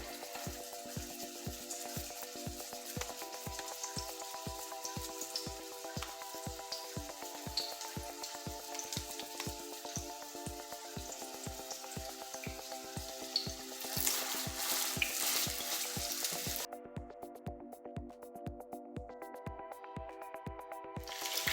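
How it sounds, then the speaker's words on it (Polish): Steady crackling sizzle of unrolled cabbage-roll patties frying in hot oil, close and continuous, with a faint rhythmic tapping running underneath throughout. "Gołąbki smażymy około 3-4 minuty z każdej strony."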